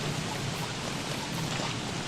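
Steady, dense hiss of heavy rain in the video game Don't Starve, falling without a break, even and unchanging, with no voices.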